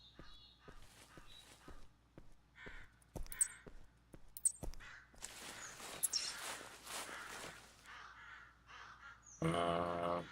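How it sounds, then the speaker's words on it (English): Crows caw repeatedly in the hunting game theHunter Classic, a series of harsh calls at mid distance mixed with footsteps on the ground and scattered game sounds. "I hear crows."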